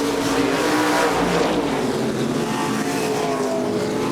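Modified division race cars roar around a track at a 2007 race, a loud, continuous blend of revving engines with no voice over the top.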